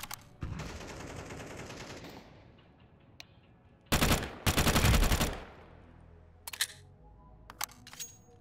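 FAMAS rifle fire in Counter-Strike 2, a sustained rattling burst, then a louder, denser burst of rapid shots, and a few sharp isolated shots after a pause.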